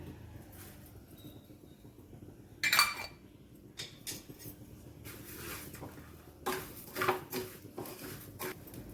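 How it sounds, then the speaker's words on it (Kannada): Cumin, coriander seeds and mustard seeds dry roasting in a pan without oil, with a spatula clinking and scraping against the metal in irregular bursts over a faint steady background. "ಜೀರಿಗೆ ಹಾಕ್ತಾಯಿದ್ದೀನಿ ಎಣ್ಣೆ ಹಾಕಿಲ್ಲ ಹಂಗೆ ಡ್ರೈ ರೋಸ್ಟ್ ಮಾಡ್ತಾಯಿದ್ದೀನಿ"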